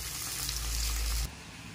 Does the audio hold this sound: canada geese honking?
no